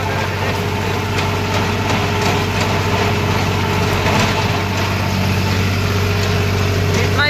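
A New Holland 3630 tractor engine runs steadily in creeper gear in a field, a loud continuous low diesel drone with no break and no voices.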